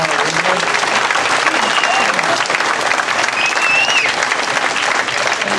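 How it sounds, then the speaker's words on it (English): A church audience at a street play applauds loudly, a dense, sustained wash of clapping with crowd noise and faint voices mixed in. "Give a loud clap to the Lord."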